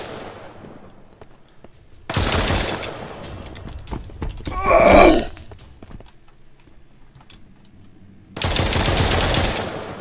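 Bursts of automatic gunfire in the Mist Survival video game, two loud sustained rattles a few seconds apart with a short groan-like noise between them and a brief exclamation from a player.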